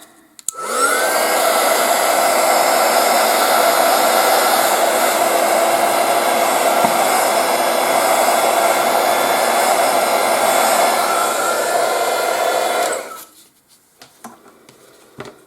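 A heat gun blows a loud, steady roar of air continuously for about twelve seconds, then cuts off abruptly, leaving faint rustling.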